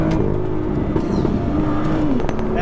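A stock BMW M2 without a particulate filter sounds its engine and exhaust in a steady, loud, close drone that rises and falls slightly in revs, with no voices over it.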